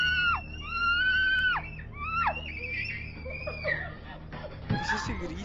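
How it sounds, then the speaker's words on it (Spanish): Shrill, wavering screams from a scary video clip: several high, drawn-out wails in quick succession, followed by a rough noisy burst near the end, with voices talking alongside. "¿Qué es ese grito, weón?"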